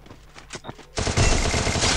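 A dense burst of rapid gunfire in Garena Free Fire, during a ranked Clash Squad match, starts abruptly about halfway through and keeps going loud and close, after a few quieter taps and bits of talk.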